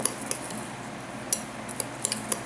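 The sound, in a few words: stirring peanuts and sugar together in a bowl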